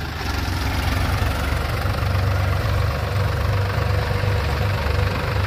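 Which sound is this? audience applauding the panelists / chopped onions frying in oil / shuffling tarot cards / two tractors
two tractors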